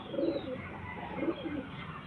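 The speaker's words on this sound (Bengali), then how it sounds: "এটা নর পায়রা" A male pigeon gives soft, low coos, two murmuring phrases about a second apart, close by over faint room background.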